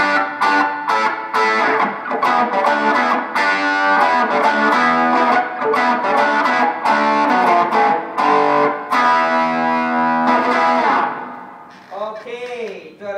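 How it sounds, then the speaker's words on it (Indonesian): An electric guitar plays through a NUX Mighty 8 amp set to overdrive mixed with reverb, loud, sustained distorted chords and riffs ringing out for several seconds before fading into a brief trailing phrase. "sekarang ni saya nak gunakan sound overdrive, campur dengan reverb"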